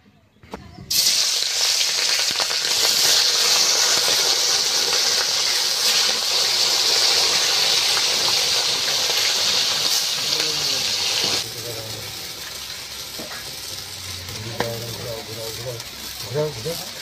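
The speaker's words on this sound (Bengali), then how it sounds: "তেলটা গরম হয়ে গিয়েছে, এবার মাছে তো লবণ হলুদ মাখিয়ে নিয়েছে, এই যে মাছটা এবার দিয়ে ভেজে নেবো আস্তে আস্তে।" Fish rubbed with salt and turmeric goes into hot oil, giving a loud, steady hiss that runs without pause and then drops to a lower, quieter sizzle, with a few soft clinks and scrapes near the end.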